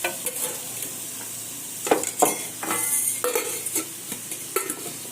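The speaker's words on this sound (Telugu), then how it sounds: "కొంచెం మిరపకాయలు వేస్తాను, దాంట్లో కొంచెం నూనె వేసాను." Chillies fry in oil in a pan with a close, steady sizzle, broken by repeated scraping and stirring strokes and a few sharper clinks of a spoon against the metal.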